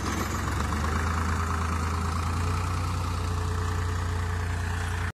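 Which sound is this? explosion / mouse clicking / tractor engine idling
tractor engine idling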